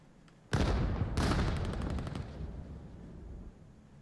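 A grenade blast in the VR shooter VAIL erupts sharply, then a second burst of rapid gunfire follows and fades out within a few seconds, loud and with no talk over it.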